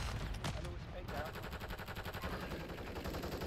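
Rapid automatic gunfire in a shooter video game, sustained bursts of evenly spaced shots in a fast rhythm, loud and continuous after a brief opening shot.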